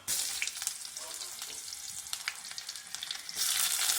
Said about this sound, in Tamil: கட் பண்ணி வச்சுருக்கிற வெங்காயம் பூண்டு தட்டி வச்சுருக்கிற பூண்டு தக்காளி பச்சை மிளகாய் கருவேப்பிலை இதெல்லாம் ஆட் பண்ணுறோம்